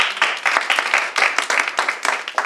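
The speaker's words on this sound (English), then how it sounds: "Give him a big round of applause for that." An audience at a close-up magic game night claps loudly, a dense, steady burst of applause lasting a couple of seconds.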